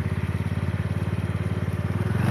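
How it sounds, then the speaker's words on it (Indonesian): A motorcycle ridden along a rough track through a forest, its engine thumping in a fast, even pulse close by, rising slightly in loudness toward the end. "Saya pakai motor, guys."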